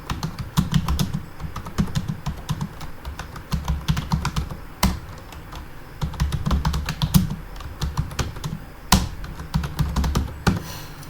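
Typing on a computer keyboard: rapid, close clicks in irregular bursts with short pauses, and a few sharper, louder key strikes standing out, no voices.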